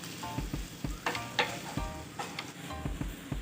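Pumpkin, cashews and almonds are stirred in hot sizzling ghee, a steady close frying crackle broken by regular scraping and tapping strokes of the spoon, with no talking.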